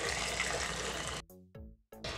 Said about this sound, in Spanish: Yo mi agua yo ya la tenía hirviendo, entonces solamente la voy a agregar a mi arroz.